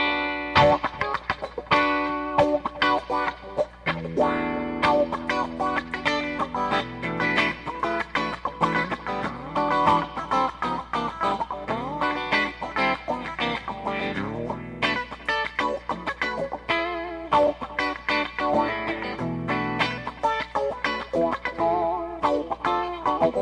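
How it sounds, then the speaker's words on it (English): Electric guitar played through a wah-wah pedal from a pedal board, funk-style distorted chords and notes with sweeping tone changes, continuous, loud and close with no talk. "Wah-wahs are so much fun."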